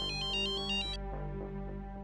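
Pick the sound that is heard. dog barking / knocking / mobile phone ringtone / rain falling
mobile phone ringtone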